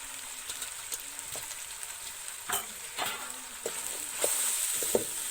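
Sliced onions fry with masala in a pan for a chicken and bitter gourd dish, a steady close sizzle broken by scraping stirs, with no voices.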